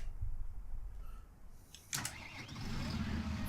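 A John Deere 7020 series tractor engine cranks and fires up inside the cab, a sudden burst settling into a steady, moderately loud idle rumble, with a faint whir before it.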